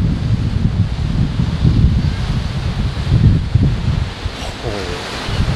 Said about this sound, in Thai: โอ้ลมแรงเห็นไหมครับลมแรงมากเลยเนี่ย